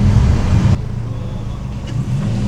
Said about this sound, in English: Here we are for the lap with the Twingo.